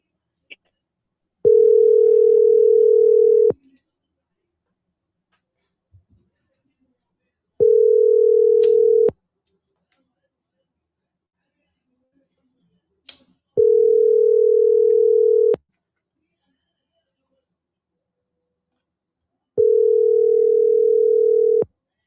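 A telephone ringback tone sounds in four long, clear, steady beeps separated by silent gaps, loud and alone.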